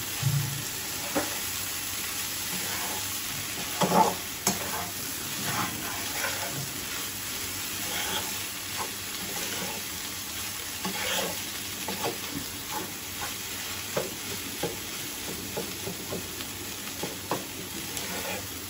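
River goby fish curry with fresh coriander and green chilies simmers with a soft, steady sizzle in a pan. A spoon stirs it in a series of scraping strokes, with no talking.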